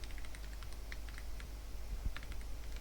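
A file name being typed on a computer keyboard in Sublime Text, with a short run of light, fast key taps over a steady low hum, close but soft, and no one talking.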